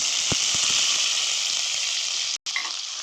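Finely chopped green chillies fry in oil for a navilukosu (kohlrabi) palya, giving a steady close sizzle with a few soft stirring taps near the start and a brief dropout just before the end.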